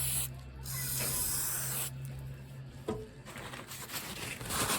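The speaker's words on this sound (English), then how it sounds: "next apply some brake cleaner to thoroughly clean out this inner part" Brake cleaner sprays from an aerosol can into the bushing bore of a control arm from a 2014 Kia Sportage 2.0 CRDI, making long, loud, close hissing blasts with a brief break and a small knock.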